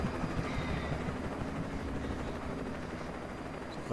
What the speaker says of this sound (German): Direkt den Helikopter durchbohrt.